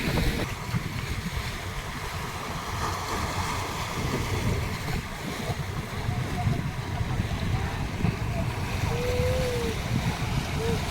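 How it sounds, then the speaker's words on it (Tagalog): Strong wind roars over the sea with washing waves and splashing, a constant rough background; a voice speaks faintly at times. "ang lakas ng hangin, kaya maalon"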